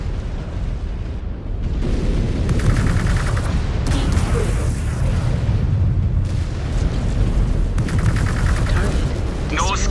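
Clan mech weapons firing in MechWarrior 5: Clans, with loud continuous booming and explosive barrages and repeated bursts over a rumbling battle din, and a voice speaking over the noise.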